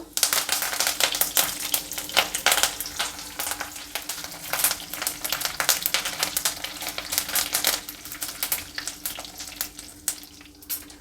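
Urad dal and chana dal sizzle in hot oil with mustard seeds for a tempering, a steady loud crackle and spatter with dense popping throughout, no voices over it.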